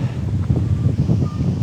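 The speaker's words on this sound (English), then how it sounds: "Wind has picked up again." Wind blowing across an open disc golf course in Mendip, UK, a steady rough rumble and buffeting against the microphone that stays loud and close for the whole short stretch.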